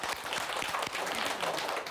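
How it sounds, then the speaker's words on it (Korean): Applause for a performer at a senior citizens' gathering: a short, steady patter of many hands clapping at moderate distance, fairly quiet and without talk. "박수"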